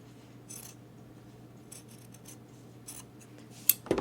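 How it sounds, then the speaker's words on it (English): Quilting fabric being cut along a marked line to make half-square triangles gives a few soft, scattered snips and rustles up close, ending in a sharper clack. "now I'm going to cut on that cut line."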